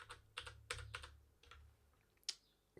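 Someone types on a computer keyboard while entering a Ruby on Rails command into a console: sparse, crisp keystrokes heard up close, in short uneven bursts with brief pauses.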